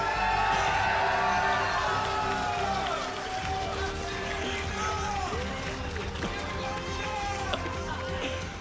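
A crowd at a League of Legends esports event in Nottingham cheers and whoops, the noise loud at first and then settling into a sustained roar with excited shouts mixed through it.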